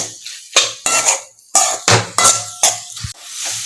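Chicken fried rice mixture stirred in a pan, with repeated clinks and scrapes of a utensil against metal in irregular bursts, close and fairly loud.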